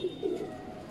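Racing pigeon arriving at the home loft after a training toss, with low, soft cooing close by and steady outdoor background ambience, no talking.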